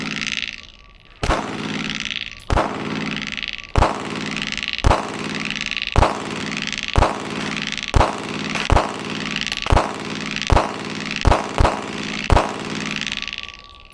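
A pistol fires 147-grain hollow point rounds in a steady string of about a dozen loud, sharp shots roughly one second apart, each with a ringing tail, no voices.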